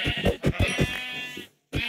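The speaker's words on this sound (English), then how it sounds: "Here comes some sheep." Several close sheep bleats from Minecraft in quick succession, wavering nasal cries with a short pause before one more bleat at the end.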